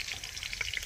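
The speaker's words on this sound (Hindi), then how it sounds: "तेल गरम हो गया और मिर्चा डाल रहे हैं।" Chilies hit hot oil with a light, crackling sizzle, small spits and pops scattered over a quiet steady hiss, brief and close, no talking.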